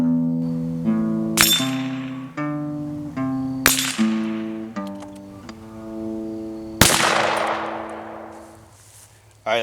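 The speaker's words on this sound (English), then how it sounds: "I'm going to shoot at the 2 dingers on each side, and then I'm going to try and blow the 2 bowling pins apart like this" A Stevens 22/410 rifle-shotgun fires several sharp shots at dingers and bowling pins, each crack followed by ringing metallic clangs from struck steel targets, spaced irregularly with a bigger blast and lingering ring near the end.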